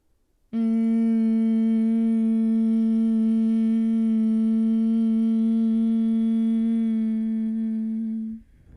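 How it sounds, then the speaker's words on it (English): A steady, loud hummed exhale through sealed lips, one sustained tone lasting about eight seconds close to the mic before fading out, part of a guided breathing exercise. "Seal your lips and hum out your exhale."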